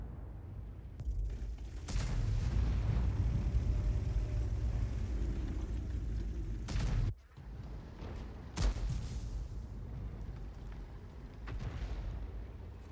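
In a tank video game, a Bat.-Châtillon 155 artillery piece fires and its shells explode: a heavy rumbling roar with mechanical creaks, broken by sudden loud blasts and a brief drop to near silence before the din resumes.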